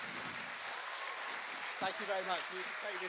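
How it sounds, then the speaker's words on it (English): Audience applause at a talk on hacking satellites, a soft, steady clatter of clapping heard at a distance, with a speaker's voice joining over it in the latter half. "could you give my two fantastic volunteers a round of applause?"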